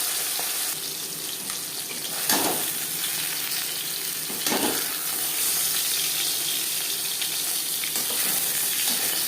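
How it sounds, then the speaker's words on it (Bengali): Bata fish frying in hot oil gives a steady, dense sizzle and crackle throughout, with a couple of brief louder bursts of spatter and no voices. "একটা সাইজ ভাজা হয়ে গেলে অপর সাইজটা ফেলতে দেবো"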